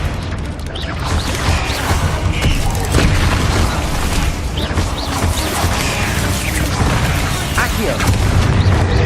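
Confringo blasting spell explosions in the wizarding game Hogwarts Legacy, loud booming bursts and crashing impacts over a continuous rumbling game soundscape, with a voice speaking over parts of it.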